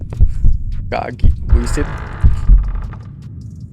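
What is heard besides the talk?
heartbeat sound effect in a horror video game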